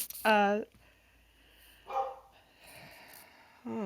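A dog barks just outside a door in a few separate bursts, with quieter sounds and a voice between them.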